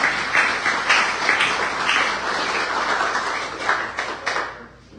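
Audience applause at a live performance, a steady dense patter of clapping filling the room for several seconds before tapering off at the end.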